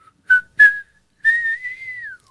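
A person whistles a short tune, two quick chirps followed by a longer sliding held note, clear and close with no other sound.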